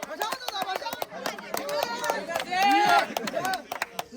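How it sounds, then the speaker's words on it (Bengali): A small audience claps in quick, uneven bursts during a three-person apple eating contest, the clapping close and lively, mixed with voices and excited chatter. "হাততালি, চাচার জন্য হাততালি।"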